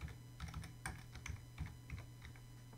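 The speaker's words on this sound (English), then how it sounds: "I'm going to type in the name of the party" A name is typed on a computer keyboard, quick irregular clicks and taps close up and fairly soft, with no voices over them.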